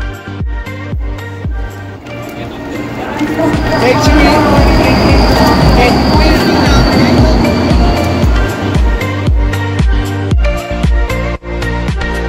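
A bullet train moves through a station platform in South Korea, its wheels clattering and rumbling loudly with rhythmic clicks and a high squeal in the middle, while people talk nearby.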